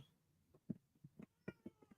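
A cat meows several times in short, close bursts, some plaintive and drawn out, with brief pauses between.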